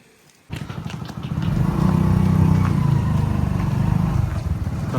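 A motorbike starting off on a village ride, the engine kicking in after a quiet moment and then droning steadily and loudly close by, swelling a little as it picks up speed.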